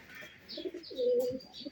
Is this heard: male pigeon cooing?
yes